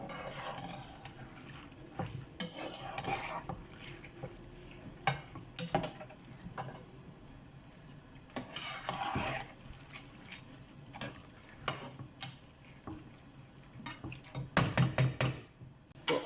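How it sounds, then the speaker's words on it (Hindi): A spoon stirs a spiced chicken and lentil mixture with crushed red chilli and salt in a cooking pot, making soft intermittent scrapes and clinks against the metal over a low steady background. "तो अब हम इसको मिक्स करते हैं"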